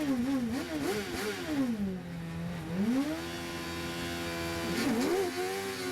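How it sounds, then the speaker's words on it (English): A 750MC Sports 1000 race car at Anglesey launches off the start with wheel spin, its engine revving up and down in wavering surges, loud and close, then settling into a sustained drone. "Quite a lot of wheel spin."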